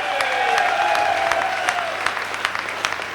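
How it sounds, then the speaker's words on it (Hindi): Audience applause fills a hall for Mr Sudesh Kumar's Safe Shop Diamond speech, a dense steady clapping wash that thins toward the end into scattered separate claps, with no talk over it. "ये जोरदार तालियां"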